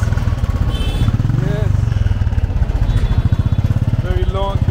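A motorcycle with a long exhaust pipe idles close by on a street corner in Amritsar, Punjab, with a steady, throbbing putter, while voices talk over it.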